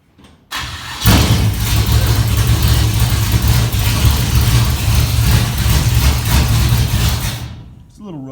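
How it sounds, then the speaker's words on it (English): A 1957 Chevy gasser engine cranks briefly, catches and settles into a loud, rough idle that runs steadily for several seconds before dropping off, close to the microphone. "It's a little rough on the idle, but for not being adjusted, it's pretty good, in my opinion."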